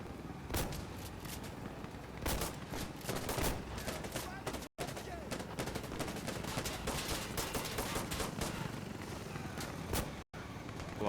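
Gunfire in the video game Insurgency Sandstorm, with dense rapid bursts of automatic shots and scattered single reports running almost continuously, and occasional player voices under the shooting.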